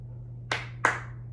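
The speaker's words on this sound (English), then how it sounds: "I'm just going to clap my hands" Two sharp hand claps in a music class, spaced about a third of a second apart, close and crisp over a low steady hum.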